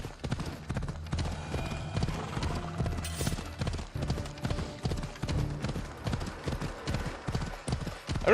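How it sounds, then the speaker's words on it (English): Horse hooves clop steadily along a road in Assassin's Creed Odyssey, a continuous close rhythmic gait running throughout with game ambience underneath. "I'm just gonna let the horse take me there because this is nice, just cruising along the road like this."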